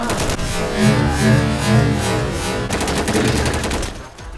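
Gunfire in the Insurgency video game, rapid bursts and sustained automatic fire with overlapping shots, loud and close for the whole stretch with no talk.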